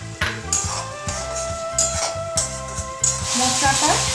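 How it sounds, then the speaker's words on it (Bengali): Spice paste for chicken biryani sautéed in a pan, with steady sizzling and repeated scraping stirs of a utensil against the pan, fairly loud and close, with a steady pulsing rumble underneath. "মশলাটা কষানো হয়ে গেছে"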